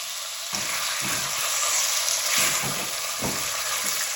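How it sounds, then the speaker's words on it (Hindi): Chicken pieces fry in a hot pan for chicken corn soup, a loud continuous sizzle with repeated stirring scrapes throughout. "इसको हमने फ्राई करना है और इसको गोल्डन कलर देना है।"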